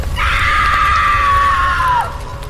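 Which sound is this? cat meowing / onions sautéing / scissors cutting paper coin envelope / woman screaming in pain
woman screaming in pain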